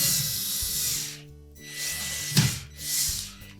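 A screw is power-driven through the back into the sub panel of a Whirlpool range. The driver whirs close up in three bursts, broken by short pauses and a brief clunk.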